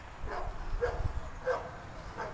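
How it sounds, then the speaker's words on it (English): Several dogs belonging to a neighbor in a small rural community bark and yip in short bursts spaced about half a second apart, at moderate distance over a low background rumble. "My next door neighbor has dogs,"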